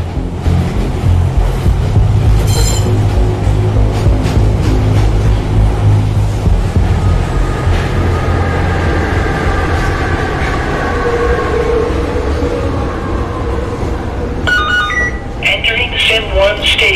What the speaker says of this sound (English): We are now pulling into the rail station.